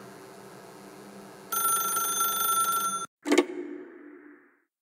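A telephone rings in The Stanley Parable video game: a steady electronic ring for about a second and a half, then an abrupt click as the receiver is picked up, followed by a short fading tone.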